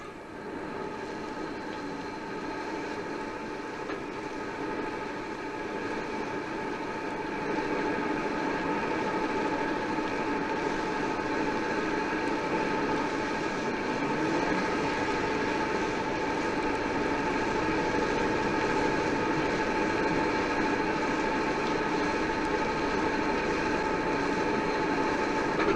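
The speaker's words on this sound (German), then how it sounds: "Selbst bei einem künstlichen Wolkenbruch." A DKW F102 sedan from 1963 is blasted by an artificial downpour in a water test. A steady, dense rushing roar of spray runs throughout and swells louder partway through, with no voices.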